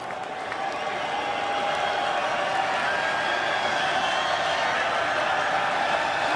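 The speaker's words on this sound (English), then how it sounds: "This crowd is energized and rocking now." A packed college football stadium crowd roars steadily at Syracuse versus Western Michigan in 2018, a dense, sustained wash of cheering and clapping that swells slightly and holds loud throughout.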